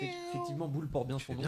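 A big, fat white cat named Boule meows among people at a French tabletop game session, its short cry mixed with overlapping conversation close by.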